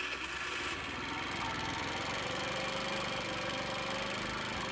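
A scooter's small engine is cranked and run after adjusting the ignition gap, giving a close, rough, continuous rattling drone with a slight shift near the start and no talking.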